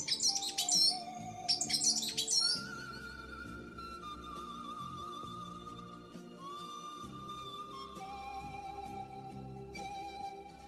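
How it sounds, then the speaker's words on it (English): Magpie tanager calling in the humid Andean forest of northern Ecuador, with two quick bursts of high chattering notes followed by long thin whistled tones over a soft background of other birds. "Magpie tanager, conspicuous, noisy,"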